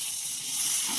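A little water hits hot roasted masala in a kadhai, giving a loud, close, continuous steamy hiss that holds steady for about a second.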